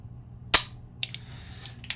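A Tisas 1911 pistol trigger dry-fired indoors: one sharp, close metallic click, followed by two fainter, lighter clicks spaced about half a second apart.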